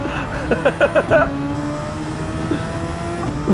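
Race cars in Gran Turismo 7 roar close by as one spins out, engines revving in rising bursts and fading, while a player talks excitedly over the racing noise.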